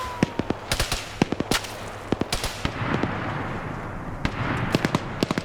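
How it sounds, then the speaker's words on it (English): Bursts of M240 machine gun fire in a PvP military shooter match on a biolab map, sharp repeated shots in quick irregular volleys mixed with more distant gunfire, continuing steadily throughout. "240 is now firing at Nordic"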